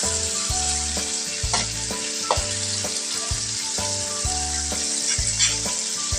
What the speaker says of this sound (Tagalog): pagkagisa natin, nilagay na natin yung kalabasa at okra